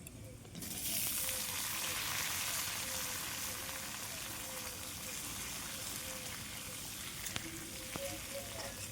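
Potatoes go into hot oil seasoned with panch phoron and bay leaves and are stirred in the pan. A steady, moderately loud sizzle runs throughout, with a brief sharp knock near the end.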